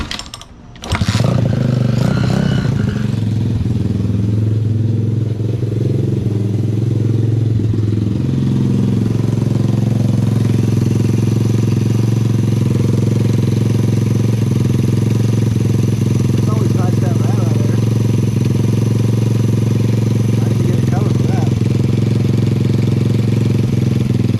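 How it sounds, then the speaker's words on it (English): A four-speed drift trike engine fires up after a quick pull and settles into a loud, steady idle with a low throbbing drone, sustained close by with faint voices now and then. "we're gonna get her fired up and adjust the idle a little bit."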